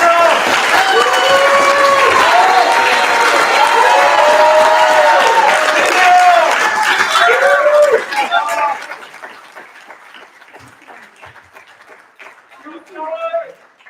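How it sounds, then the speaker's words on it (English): Audience at a Connecticut State Representative District 65 debate claps and cheers over loud, overlapping speech, then the applause fades to scattered clapping under quieter talk. "So the first round of applause is for you,"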